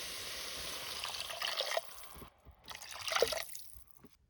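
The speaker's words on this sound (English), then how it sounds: "we're going to add approximately 4 cups of water." Water poured from a container into a pot of softened carrots, celery and garlic, a steady splashing trickle that pauses briefly and resumes, close and fairly loud with no talking.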